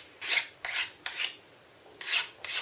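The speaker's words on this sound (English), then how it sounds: "we need to use a file to file those off. File away from the edge at an angle" A hand file rasps across the edges of a candle holder to remove sharp burrs, five short scraping strokes in an even rhythm, close and clear.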